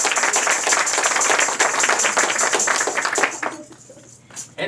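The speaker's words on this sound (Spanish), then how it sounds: "Fuerte el aplauso para el Rey de Gloria." A church congregation applauds during a worship service, a dense wash of clapping that holds steady for about three seconds before thinning into scattered claps, with voices mixed into the noise.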